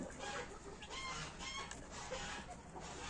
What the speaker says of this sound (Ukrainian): Курчатка маленькі ростуть, курочки несуться